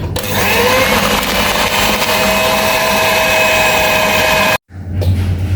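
An electric mixer beating sugar and butter for cookies with walnuts and dried fruit, a loud steady motor whir running continuously for several seconds, then cutting off abruptly before briefly starting again.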